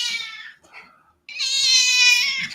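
An indoor pet cat meows twice, a shorter cry at the start and a long, loud drawn-out meow after a brief pause, close by with no talking.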